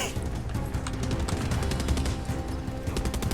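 Rapid bursts of gunfire from the Far Cry 6 video game crackle in a dense, continuous volley of sharp cracks over a loud, busy background.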